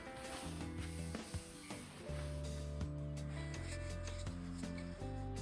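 A cloth rubs a thin coat of rust inhibitor onto the metal table of a refurbished Rockwell Beaver 37-260 jointer, with close, soft, repeated scraping and wiping strokes in an uneven rhythm.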